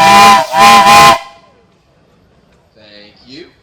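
Steam traction engine whistle at a steam tractor show: two loud, close, hissing blasts about a second long in total, separated by a brief gap, followed by quieter background sounds.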